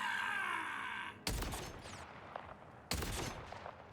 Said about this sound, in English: So if I shoot this guy